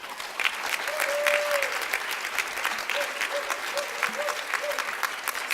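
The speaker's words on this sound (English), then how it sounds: "Why don't we applaud the folks that they have been working really hard back there" Audience at a heroes luncheon applauds the AV crew with sustained, even clapping that fills the room, while a voice and faint tonal sounds carry over it.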